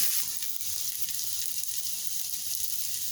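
Coriander leaves frying in oil for curd rice, a steady, even hiss of sizzling with little variation, close and unbroken.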